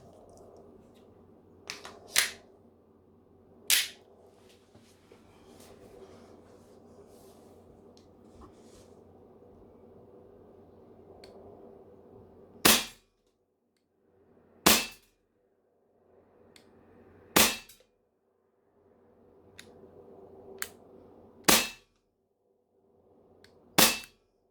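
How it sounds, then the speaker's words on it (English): Airsoft pistol firing with a CO2 magazine, about five or six sharp loud cracks spaced a couple of seconds apart, plus a few fainter clicks and handling noises earlier, no speech. "now some 5 shots with the CO2 again"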